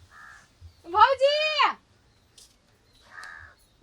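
One loud, drawn-out crow caw rings out in a Maithili comedy sketch. It rises and falls in pitch over about a second, with brief faint voices before and after it.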